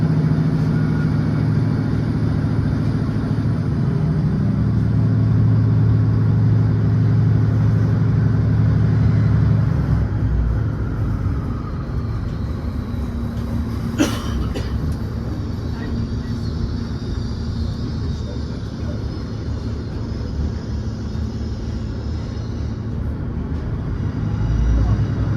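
Interior of a Northern Class 156 diesel train running out of Newcastle, a steady loud low engine drone and rumble filling the cabin, with a brief sharp knock midway and a slight shift in tone later.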